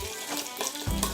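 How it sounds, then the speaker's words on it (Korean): Meat dropped into hot oil on an LG DIOS induction cooktop, a soft hiss that bursts into louder sizzling near the end, with faint clatter. "그 다음에 고기를 넣어주세요."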